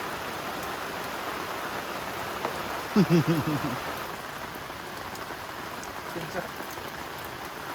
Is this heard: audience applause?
no